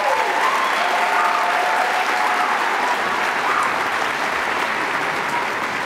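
Sustained audience applause for a children's choir at a middle school fine arts festival, dense and even clapping filling the hall, holding steady throughout with faint crowd noise.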